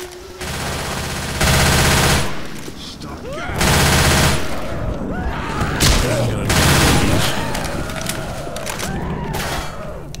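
Sustained machine-gun fusillades in Left 4 Dead, several long loud bursts separated by short gaps, with scattered impacts and shouted voices mixed under the firing.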